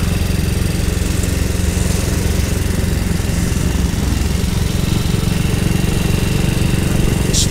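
A small classic motorcycle engine running during a lap at a national motorcycle event, a loud, steady buzzing drone held close and constant throughout without talk.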